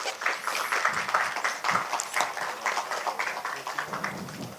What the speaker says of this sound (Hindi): मैं सबको गुजारिश करूंगा कि एक बार उनका स्वागत जोरदार तालियों से हो जाए।